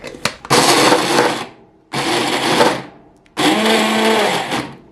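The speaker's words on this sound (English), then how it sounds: "now I'm going to mix this all together with this mini food processor" A Dash-style mini food processor blends a thick lentil patty mixture in three loud close bursts, each a whining motor roar a second or more long, separated by short pauses as the blade spins down.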